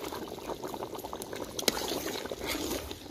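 Chicken and potato curry boils in a pot over a wood-fired stove, a soft irregular bubbling and gurgling with a brief louder pop partway through.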